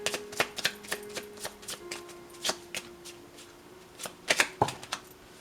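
Tarot cards being shuffled up close, a run of crisp papery riffles and snaps in uneven bursts, with a denser flurry near the end and no voices.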